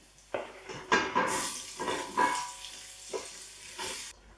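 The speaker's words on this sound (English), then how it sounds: "So we're just going to sweat those down until they become nice and soft." Leeks fry with bacon in a pan, a close sizzling crackle broken by scrapes and clinks as they are stirred, rising and falling over several seconds without speech.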